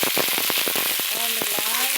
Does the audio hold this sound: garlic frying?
yes